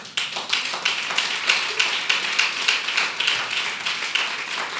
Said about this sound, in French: Je veux qu'on acclame les femmes ce matin.